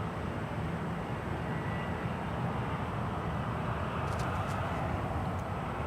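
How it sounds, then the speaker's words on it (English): A Falcon 7X private jet touches down at San Francisco International Airport, heard as a steady, distant low engine roar with broadband rushing noise throughout. "There's a Falcon 7X touching down."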